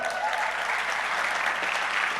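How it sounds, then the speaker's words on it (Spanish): Congregation at a church service clapping steadily, a dense, even wash of applause heard alone and at a moderate distance. "Denle un fuerte aplauso al Señor."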